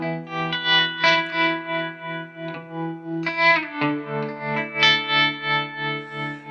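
Distorted electric guitar chords through a Walrus Fundamental tremolo pedal at full depth and lowered rate, pulsing with a deep, fairly slow tremolo, the volume swelling and dipping in a steady wavering rhythm.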